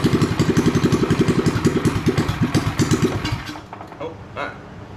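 A 212cc engine swapped into a Coleman minibike, previously sunk, runs with a steady rapid chugging that rises briefly with throttle, then cuts out and sputters to near silence near the end.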